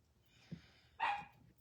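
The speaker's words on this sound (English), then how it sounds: "And there goes my dog." A dog gives two short barks, the second louder and a little higher, heard indoors at a moderate distance.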